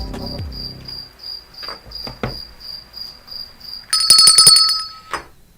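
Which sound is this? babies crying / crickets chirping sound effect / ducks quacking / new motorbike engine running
crickets chirping sound effect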